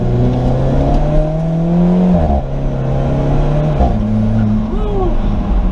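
A 2016 Alfa Romeo 4C Spider driven in manual mode through turns, its engine droning loudly and closely, the pitch dropping sharply at two gear shifts before climbing again.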